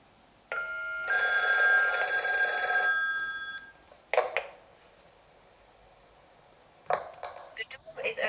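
A Videx Era door entry unit rings with an incoming video call: a short tone, then a longer electronic chime lasting about two seconds, followed by brief clicks and shorter electronic tones, fairly close in a quiet room.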